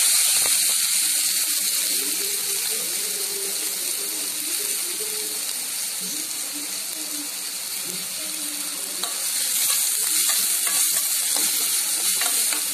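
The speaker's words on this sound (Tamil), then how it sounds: "நல்லா வதக்கலாம்" Onions with mustard seeds sautéing in oil in a pan for a spicy masala dosa filling, a steady sizzle with stirring scrapes running throughout, close and even, with no talk.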